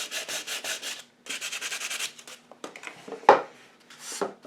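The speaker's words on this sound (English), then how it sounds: "take a piece of sandpaper to something that you just spent a couple hours painting" Sandpaper rubs across a freshly painted wooden craft bunny in steady back-and-forth strokes, close and fairly loud, with a short pause and a few brief knocks toward the end.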